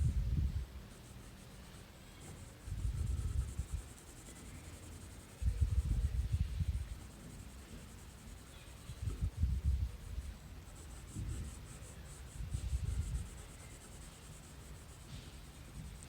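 Colored pencil shading on paper, building from very light to dark strokes: quiet scratchy bursts of scribbling recur in clusters, close and soft, alone without voices.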